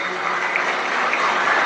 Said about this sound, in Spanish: Fuerte el aplauso para estos suboficiales.